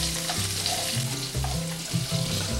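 Bacon sizzles and crackles steadily in its hot grease in a pan while making chicken carbonara, a continuous close frying hiss with occasional low thumps and bursts, no talking.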